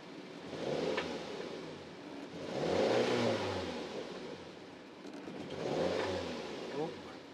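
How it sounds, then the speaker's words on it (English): A Mazda MX-5 NC engine running and being revved in slow swells, rising and falling three times over a low idle, heard close by, with someone speaking briefly. "It's idling good."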